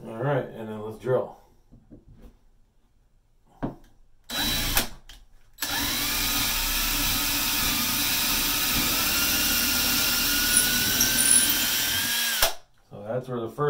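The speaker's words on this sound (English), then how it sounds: "and then let's drill." A power drill whines steadily into oak pallet wood for about seven seconds after a couple of short bursts, loud and close, with talking before and after it.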